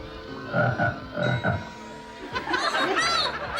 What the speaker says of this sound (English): killer frogs are back!